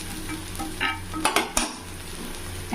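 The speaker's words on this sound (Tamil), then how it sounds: "கொஞ்சம் எண்ணெய் விட்டுக்கலாங்க. நல்லா வேகட்டும் தோசை." Dosa frying in oil on a hot pan, giving a steady close sizzle with a few brief utensil scrapes and clinks; no talk.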